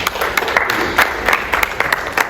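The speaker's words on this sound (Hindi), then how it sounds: "आप इन दोनों के लिए तालियां दीजिए।" Applause at a retired engineers' get-together, a small group clapping with distinct individual hand claps audible in an uneven rhythm, fairly close and without speech.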